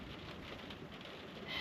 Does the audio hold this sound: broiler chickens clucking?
no